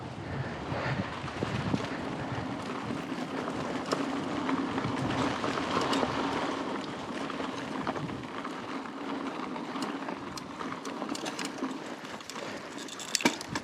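Strong headwind buffets the microphone while cycling a long road ride, a rough, gusting rumble with faint rattles and small clicks, continuous and close, and no one speaking.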